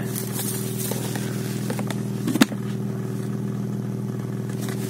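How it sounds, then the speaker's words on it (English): A 1999 BMW 323Ci E46 exhaust with a sport rear muffler burbles steadily at idle with a deep, even low rumble, and a brief sharp rev blip partway through. "I wanted to show you some of the sound of this big exhaust"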